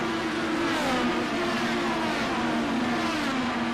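IndyCar race cars accelerate down a straight in a racing video game set at Indianapolis, making a steady, loud, high engine whine that holds continuously with slight pitch shifts.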